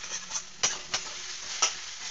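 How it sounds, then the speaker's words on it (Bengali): An egg fries in a hot pan and is broken up with a spatula: a continuous hiss with several sharp scraping strokes at uneven intervals. "এবার আমি খুন্তি দিয়ে দিয়ে পুরো ডিমটাকেই ভেঙে ভেঙে গুঁড়ো গুঁড়ো করে ভেজে নেব।"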